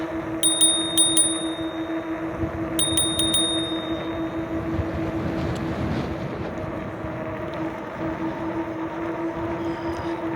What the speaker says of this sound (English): I'm getting used to using the bell. I really like using the bell.